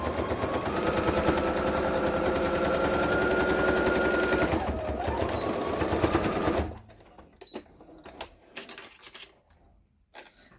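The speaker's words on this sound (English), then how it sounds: "I'm going to just keep laying on top of it and sew right over it." A sewing machine stitches a quilted pumpkin hot mat in a fast, loud, steady mechanical whir for about six seconds, then stops, leaving faint handling clicks and rustles of fabric.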